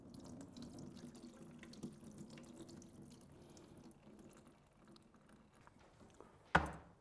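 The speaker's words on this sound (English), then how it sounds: "You want to wash the rice" Tap water runs quietly into a sink while rice is washed by hand, a low steady trickle with faint swishing, ending in a brief louder splash; no voices.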